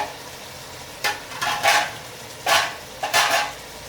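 Mixed vegetables with cauliflower and capsicum for a Pakistani mix sabzi are stirred in a pan: several distinct scraping, clattering bursts of a spoon against metal over a quiet background, close and fairly loud.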